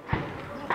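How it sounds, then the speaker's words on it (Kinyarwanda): Distant gunshots near the Rwandan border: a dull low thud early on and another fainter one near the end, both far away and muffled beneath faint voices. "aha amasasu ari kumvikana"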